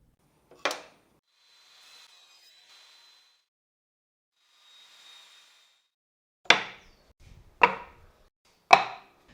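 A saw makes brief, sharp cuts through leftover timber, cutting it into four smaller parts in a woodworking shop: one isolated cut, a faint pause with soft noise, then three loud bursts in quick succession, close to the microphone.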